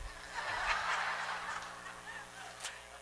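A rooster crows during a church sermon, one drawn-out call that sounds fairly faint and a little distant against a steady background hiss.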